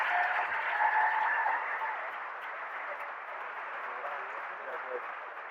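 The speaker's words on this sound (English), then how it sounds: "let's give him one more round of applause" Audience applause fills a high school class day ceremony, a steady, dense wash of clapping heard from within the crowd that eases slightly after the first second and continues evenly throughout.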